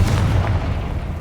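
Confringo fire spell explosion from the Hogwarts Legacy video game, a deep, booming blast with a low rumble that lingers briefly and then decays.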